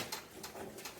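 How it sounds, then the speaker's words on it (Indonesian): A bird, tagged as a dove or pigeon, calls in three short, evenly spaced bursts at moderate distance, with no talk. "Mana itu burung?"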